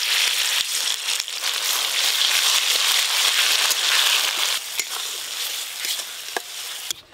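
Ground spice paste hitting hot oil already tempered with dried red chilli, bay leaf and slit green chilli, a loud dense continuous sizzle with sharp crackles and pops throughout, no voices.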